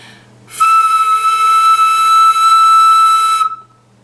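One sustained, higher flute note rings out for about three seconds, bright and airy, starting and ending cleanly.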